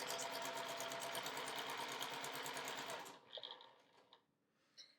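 A sewing machine runs steadily for about three seconds, stitching charm pack quilt rows together, with a fast even mechanical whir. It then stops, followed by a few faint handling clicks and rustles.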